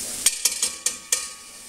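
Squirrel meat mixture stirred in a pot for jambalaya: five evenly spaced scraping clanks of a spoon against the pot over a low sizzle, close and distinct, no talk.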